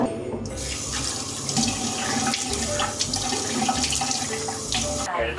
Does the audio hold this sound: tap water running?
yes